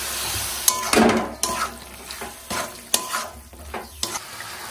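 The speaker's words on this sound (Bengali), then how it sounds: "মশলাটা কষানো হয়ে গেছে, মশলা থেকে তেল ছেড়ে গেছে। এবার দিয়ে দেবো সেদ্ধ করে রাখা সবজি।" Boiled vegetables, cabbage among them, go into a pan of well-fried masala and get stirred, a loud sequence of spoon knocks and scrapes over a steady sizzle.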